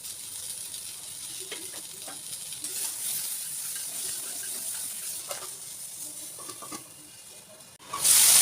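Tomatoes and potatoes sizzle steadily in a covered pan, a continuous soft frying hiss with faint scattered pops, swelling to a louder burst of hiss at the very end.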